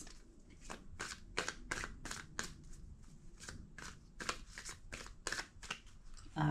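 A deck of cards being shuffled in quick riffling bursts, repeated about a dozen times in a steady rhythm, close by with no talking.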